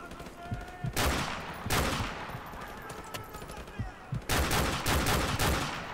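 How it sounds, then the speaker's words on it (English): Gunfire from Call of Duty 4: Modern Warfare Remastered, a video game: several loud bursts of rifle and machine-gun fire, some close and some further off, with quieter shots between them. "What are you guys shooting at?"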